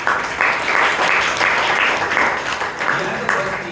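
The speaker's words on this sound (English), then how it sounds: "give Vaidyanathan a big round of applause." Audience applause at a Toastmasters meeting in Bangalore, a brisk steady round of clapping that fills the room for the whole stretch.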